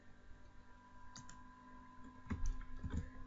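A few soft computer keyboard key clicks for a Ctrl+C copy command, scattered taps clustering near the end, faint and close against a low steady hum.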